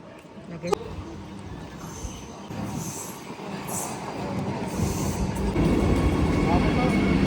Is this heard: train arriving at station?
yes